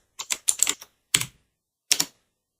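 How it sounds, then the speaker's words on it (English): Someone types a command on a computer keyboard into the Windows command prompt: a close, crisp cluster of key taps, then two single keystrokes after short pauses, with no talking. "Now type Java"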